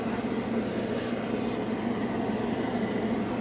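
An airbrush sprays Vallejo Metal Color steel paint onto a black spoon, giving two short bursts of hiss over a steady, low background hum.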